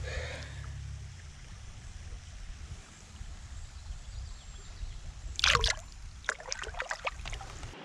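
A waterfall on a mountain trout stream in Wisconsin gives a steady, full rushing hiss throughout, with a few brief splashes and clatters near the end.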